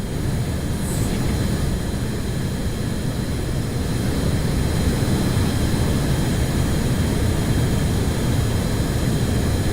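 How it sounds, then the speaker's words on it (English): Hyper ramjet engines on an aircraft in a space-flight video game roar steadily, a constant broad jet-like rumble at high level throughout with no talk. "Our hyper ram jets are really starting to pick up their thrust now."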